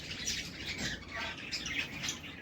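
Cage birds, java sparrows and goldfinches, chirp and tweet continuously in a busy overlapping chorus, with many small birds calling at once close by and no talking.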